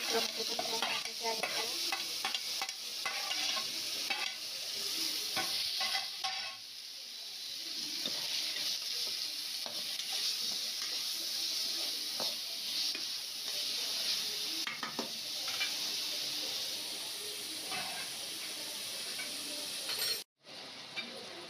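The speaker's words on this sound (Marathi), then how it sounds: "आता याच्यामध्ये मी लसूण अद्रकची पेस्ट टाकते" Ginger-garlic paste frying in a pan for egg biryani, with a dense crackling sizzle and repeated spatula scraping, a brief lull mid-way and a sudden cut near the end, no speech.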